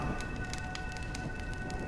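Steady rainfall in the video game Honkai: Star Rail, a constant hiss of rain with scattered drop taps, moderately loud and continuous with no voices.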